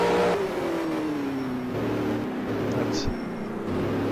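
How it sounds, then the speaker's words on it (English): Jaguar V12 touring race car engine accelerating at a 1985 New Zealand touring car race in Wellington, a rising drone sweeping upward behind a race commentator's voice. "That Jaguar V12 not that good at spooling up by the looks of things."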